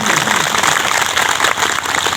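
Loud, dense applause from a village gathering at a Sarna prayer assembly, steady and continuous throughout with no pauses.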